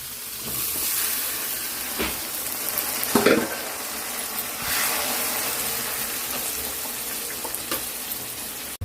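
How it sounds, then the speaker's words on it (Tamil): Broad beans and onion sauté in a pan, giving a soft continuous sizzle and hiss with a couple of brief stirring scrapes in a quiet kitchen. "அப்படியே இந்த பக்கம் வந்தோம்னா அவரைக்காய் வெங்காயம் நல்லா வதங்கிருக்கும்."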